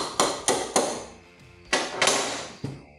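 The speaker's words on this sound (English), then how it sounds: "You want me to give it a whack with a mallet quick?" Mallet whacks on a YZ 250 engine part during a teardown: seven sharp, ringing blows in two bursts, fairly close and loud, with short decays between hits.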